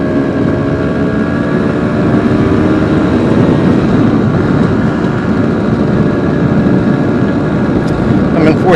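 Classic 1980 Vespa P200E 200cc two-stroke scooter ridden in fourth gear on small roads, a steady buzzing engine drone mixed with loud wind rush, continuous and close throughout.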